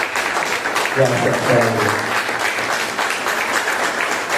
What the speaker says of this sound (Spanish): el pueblo bate sus palmas para honrarte, Señor